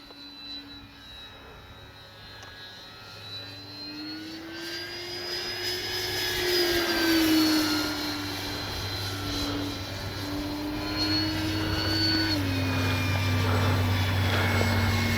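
A Dynam F6F Hellcat RC model plane flies past overhead with gear up, its electric motor whining and rising then falling in pitch as it nears and recedes, moderately loud over outdoor wind noise.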